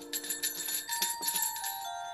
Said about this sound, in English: there was a tinkling and jingling of sleigh bells.